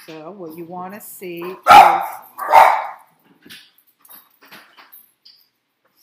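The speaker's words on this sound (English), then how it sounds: "excuse the barking" A dog barks twice, loud and close, right after a person starts talking; the speech resumes faintly afterward.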